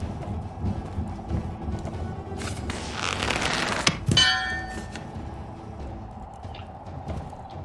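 A bell clangs in the video game Lost Legends of Redwall, a single bright metallic strike ringing out near the middle over quiet game ambience and creaking, then fading.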